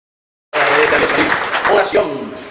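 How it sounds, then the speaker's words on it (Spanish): After a brief silence, a church congregation at a Mass in a chapel breaks into loud applause, close and full, with voices mixed into the clapping as it gradually fades. "Un fuerte aplauso para ella."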